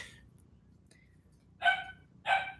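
Two sharp, close dog barks ring out about half a second apart after a quiet stretch, as playful dogs run around indoors.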